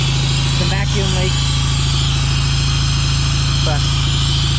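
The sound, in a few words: Honda Accord engine idling with a vacuum leak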